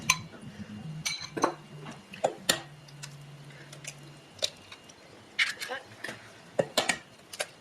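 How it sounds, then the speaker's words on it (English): Dissolved yeast and eggs go into a flour well in a mixing bowl for homemade waffles: a series of close clinks and taps of a utensil and bowl, with soft wet sounds between, while a voice talks throughout. "now we're gonna put the dissolved yeast and the eggs inside this well"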